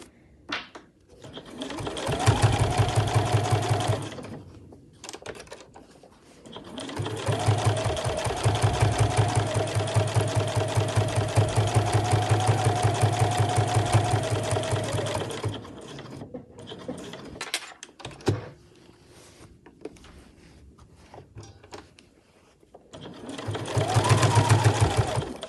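A sewing machine stitches a backpack lining along the fabric edge, its close, steady motor hum running in three long bursts separated by short pauses and handling noises.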